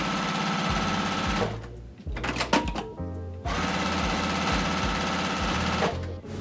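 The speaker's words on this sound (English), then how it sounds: "I'm going to give it a nice little top stitch down both sides like we've been doing" A sewing machine runs close by, top stitching down the sides of a fabric bow in a steady, rapid mechanical chatter that stops briefly, gives a few clicks and adjustments, then resumes its even whirring stitch.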